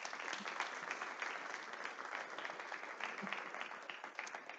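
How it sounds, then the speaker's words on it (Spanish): An audience applauds at a talk on artificial intelligence and chess, even continuous clapping held at a moderate distance throughout. "¿Le damos un aplauso a Lila?"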